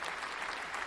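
Studio applause sound effect played back at reduced volume, a steady wash of many hands clapping that stays even and fairly quiet from start to finish.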